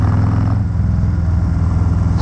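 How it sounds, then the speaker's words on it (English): A 2019 Harley-Davidson Low Rider with Vance & Hines slip-on exhausts, a deep, loud, steady engine rumble close by, throbbing evenly throughout with no voices. "Those Vance & Hines slip-ons, they really got a nice note to them."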